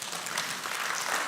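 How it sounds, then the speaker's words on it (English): Audience hand claps at a Sunday church service fill the moment, a steady dense wash of clapping at even loudness throughout, with a faint trace of voices underneath. "let's give him some hand claps"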